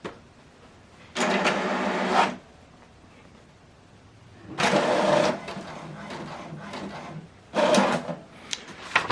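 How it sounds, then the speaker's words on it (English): An HP Deskjet 2820e inkjet printer prints a page, heard close as three separate bursts of mechanical whirring and feeding, with quiet pauses between them and no talking. "From the laptop, select continue to print"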